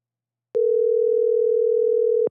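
A steady telephone tone sounds while a call is being dialed, one unbroken electronic hum lasting under two seconds, clean and loud with silence before it and a brief click at the end.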